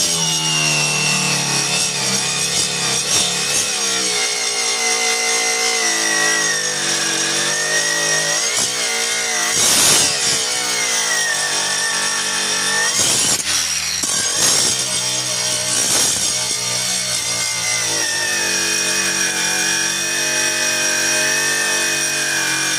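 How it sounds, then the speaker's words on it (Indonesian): A Mailtank MK15 brushless cordless angle grinder runs continuously under load, a loud, bright, sustained whine with a few brief surges as pressure changes, heard alone without talk. "Berikutnya mode gerinda."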